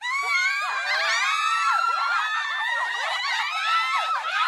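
Screams and wails echoing from inside a haunted house, a dense overlapping chorus of many high, shrill voices shrieking and moaning continuously, loud and eerie, with no bass underneath.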